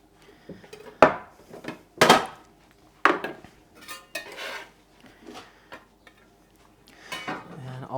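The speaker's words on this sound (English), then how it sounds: "I have some of these cremini mushrooms. I'll use those for garnish for my ramen. So I'll just cut those into some slices." A knife cuts cremini mushrooms on a board for a ramen garnish, giving several sharp close chops and taps, loudest early on, followed by softer scattered knocks.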